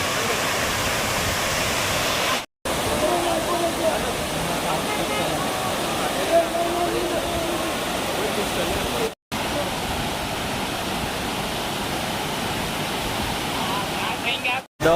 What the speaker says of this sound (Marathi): बघ, इकडे ते पाणी जातं धबधब्याचं